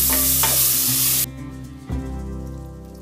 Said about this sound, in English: The dry spices powder, roast it for around 30 seconds, add the tomatoes and again cook till the tomato gets tender.